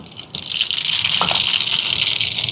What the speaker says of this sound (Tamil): இனி கடுகு சேர்ப்போம்